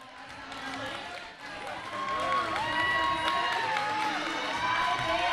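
A roller derby crowd cheers and shouts in a loud arena, a swelling roar of voices with whoops and whistles that grows louder partway through.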